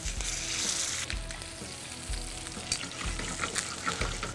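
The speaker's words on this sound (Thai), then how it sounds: "รอนิดนึงนะครับรอให้ปลาเราสุกเหลืองหน่อย" Fish frying in oil for a seafood glass-noodle stir-fry gives a continuous close sizzle with crackling pops, and a low rumble pulses roughly once a second.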